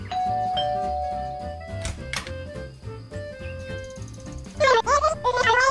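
A doorbell rings at a cabin in a cartoon, its sustained chime tones ringing out and decaying, followed by a brief burst of louder animated sound near the end.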